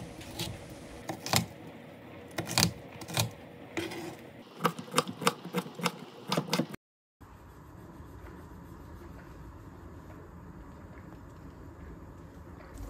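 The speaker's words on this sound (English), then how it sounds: "I'm going to cut the vegetables, 1 pepper, 1 carrot and 3 medium potatoes" A knife chops through pepper, carrot and potatoes on a board in a home kitchen for Hungarian goulash, giving a run of close, sharp, irregular chopping taps. The taps stop abruptly and give way to a quiet, steady background hiss.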